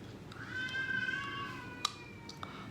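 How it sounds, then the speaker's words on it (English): A cat gives a long, drawn-out meow, fairly faint and alone, followed by a couple of small clicks and taps in a quiet room. "And there's a cat."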